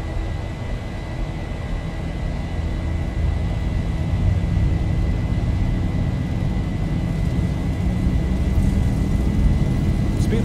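Airliner engines at takeoff power in the X-Plane 11 flight simulator, with a steady, loud, sustained roar holding constant for the whole stretch and no voices over it.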